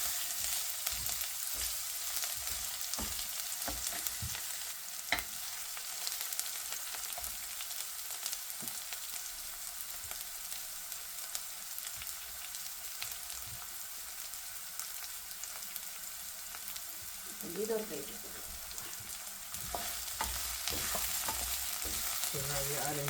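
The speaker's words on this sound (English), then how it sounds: "We're putting in 3/4 of the onion now, and then the other quarter later on." Onions sizzle and fry steadily in hot oil for a Sri Lankan pumpkin curry, a continuous close crackle with occasional stirring scrapes and a brief louder stir near the end.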